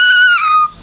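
A young child imitates a cat's meow with one short, high, drawn-out vocal cry that slides gently downward, loud and close, ending abruptly.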